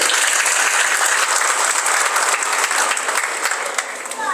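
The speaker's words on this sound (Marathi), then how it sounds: "एकदा जोरदार टाळ्या वाजवा त्यांच्यासाठी" A village crowd at a BJP candidates' campaign launch breaks into loud, dense, sustained clapping that fades slightly toward the end, with a voice faintly audible beneath it.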